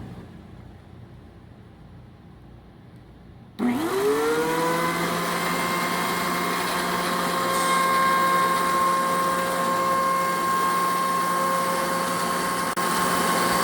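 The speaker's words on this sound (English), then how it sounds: "it's time to take them over to the planer and bring them down from that original 3/4 inch we had to that desired 1/2 inch" A thickness planer feeds glued wooden box walls down from 3/4 inch to 1/2 inch: faint background, then an abrupt loud start into a sustained whining machine roar with a steady tone, continuing unbroken.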